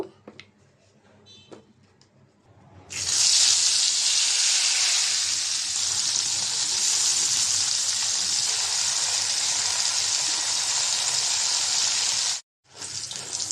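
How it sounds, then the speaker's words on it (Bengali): Pointed gourd (potol) slices fry in oil: after a quiet start with faint clicks, a loud, steady sizzle bursts in and holds for about nine seconds before cutting off abruptly. "বাকিগুলোও একইভাবে ভেজে নেব"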